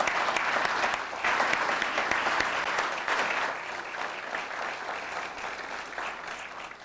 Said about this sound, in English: Those of you who have survived it deserve a round of applause.